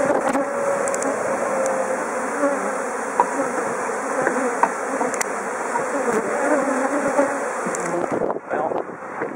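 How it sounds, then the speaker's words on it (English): A dense swarm of bees buzzing in southwest Florida, a loud continuous close hum with individual bees passing near, ending with some handling noise. "here we are, attacked by virtually every bee in southwest Florida"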